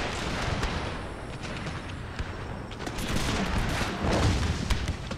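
Rapid volleys of cannon and musket fire in a Thirty Years' War battle in Total War, a dense crackling barrage with deeper booms swelling toward the end, loud and continuous.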